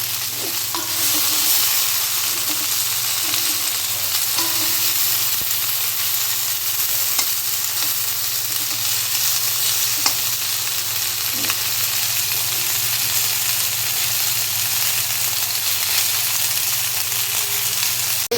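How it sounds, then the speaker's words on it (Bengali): Chicken pieces fry in a wok with no added oil, sizzling in their own released fat: a loud, steady, dense crackling hiss that runs unbroken throughout with only faint occasional stirring clicks. "চিকেনের গা থেকে তেল ছেড়ে গেছে। এটা দেখে কিন্তু কেউ বলবে না যে এটা সম্পূর্ণ তেল ছাড়া ভাজা"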